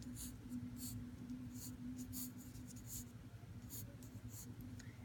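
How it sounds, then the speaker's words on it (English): A pencil quickly sketches a square on paper in short, faint scratchy strokes, spaced out in bursts against a quiet room hum. "let me quickly draw a square"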